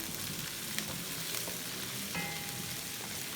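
Garlic, green chili and ginger paste sizzles steadily in hot oil in a pan, a continuous dense crackle with occasional stirring scrapes, with no voices over it.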